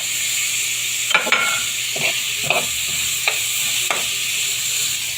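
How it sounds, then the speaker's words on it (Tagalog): Carrots are stirred in a sizzling pan while cooking sweet and sour tilapia, a constant close frying hiss broken by several scraping strokes of a utensil against the pan. "halo-haloin lang po natin"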